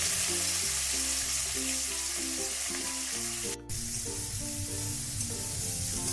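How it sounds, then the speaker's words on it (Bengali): Okra sizzles steadily in a frying pan, a dense, even crackle heard up close with no speech, while a repeating low tonal pattern plays underneath throughout. "এতে আমি ঢেঁড়সটা দিয়ে ভালো করে ভেজে নেব"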